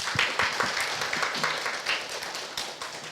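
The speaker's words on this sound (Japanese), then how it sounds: "もう一度大きな拍手を送りましょ" Scattered applause from a church seminar audience, a few seconds of loose, moderately quiet clapping with irregular individual claps standing out.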